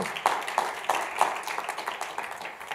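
Clapping from a church congregation during a Tuesday worship service, a few strong regular claps standing out at first, then looser scattered clapping that fades.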